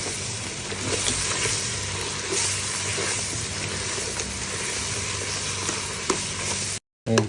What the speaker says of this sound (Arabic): ونقلب بقى عليه المشروم